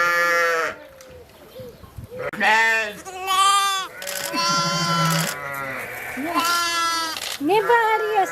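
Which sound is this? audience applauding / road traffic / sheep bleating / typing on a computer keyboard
sheep bleating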